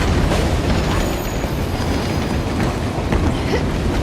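A train running in the video game Uncharted: The Lost Legacy, a loud continuous rumble with rattling clatter throughout and no voices.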